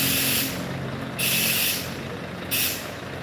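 A bus's air hand brake releases in loud hissing bursts, three sharp sprays of air with steady low engine rumble underneath and no talk.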